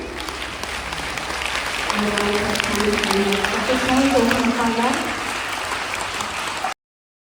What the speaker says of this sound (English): Let us have a round of applause for this.